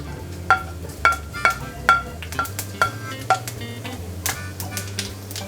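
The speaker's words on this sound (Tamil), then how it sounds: "இப்போ நான் இந்த சோம்பு, இந்த பட்டை, கிராம்பு, ஏலக்காய்லாம் இருக்குல்ல, அதெல்லாம் போட போகிறோம்" Whole spices, fennel, cinnamon, cloves and cardamom, dropped into a hot pan for chicken masala, giving a series of sharp crackling pops at a fairly steady rhythm over a low steady sizzle, close and clear.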